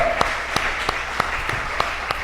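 A church congregation applauds loudly, a steady wash of clapping with sharp, evenly spaced claps rising above it in a regular beat throughout.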